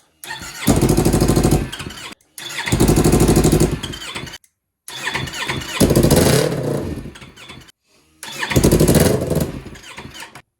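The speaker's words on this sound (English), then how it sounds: "The engine just keeps running on the starter and nothing really is happening." A street motorcycle engine cranks on its starter in four long, labored bursts separated by brief silences, loud and close, never catching.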